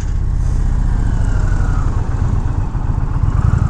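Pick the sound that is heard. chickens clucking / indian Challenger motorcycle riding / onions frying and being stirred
indian Challenger motorcycle riding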